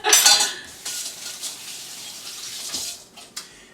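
A spoon scrapes and clinks against a crock pot while beans are ladled over chuck wagon stew, with a sharp burst of clattering at the start, then softer scraping and a few separate knocks, close by and without talk.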